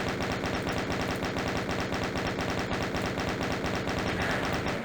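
Rapid, continuous pistol gunfire from the classic shooter Doom on the Ganymede base level, loud repeated shots in a steady fast rhythm for the whole stretch, no voices.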